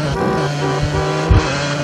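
An orange motocross bike in a cartoon revs and accelerates, a buzzy engine tone with strong harmonics holding steady and then a sharp low thump near the end, close and loud, no voices.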